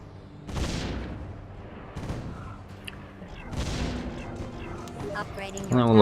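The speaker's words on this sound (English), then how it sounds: "So we'll throw down another cannon tower." Cannon towers firing in the Defense Grid strategy game, heard as a few booming shots spaced a second or two apart. A voice talks over them at times, with game effects and music in the background.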